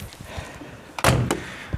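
The vinyl-trimmed door of a Triumph 2500 sedan shuts with a single solid thunk, followed by a faint latch click.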